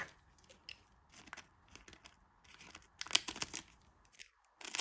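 Scissors snipping through a section of sticky pink decorative tape, quiet close crisp cuts and crinkles in short irregular bursts, alone without talk.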